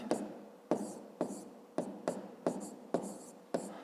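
Someone writes a math problem by hand, producing eight brisk scratching strokes in an uneven rhythm, close and fairly faint with no talking over them.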